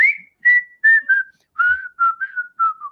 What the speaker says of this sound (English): He fixed one or two of the whistle parts